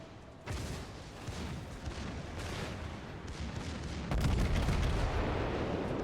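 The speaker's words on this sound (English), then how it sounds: "So I'm basically getting free shots right on the broadside of the battleship." Naval gunfire from a New Mexico battleship in World of Warships: heavy booming salvos and rumbling blasts, a sharp onset near the start and a louder one later, over continuous dense battle noise.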